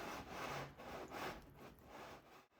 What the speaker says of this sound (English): We'll mix with the back of a wooden spoon to add plenty of splinters to our dough.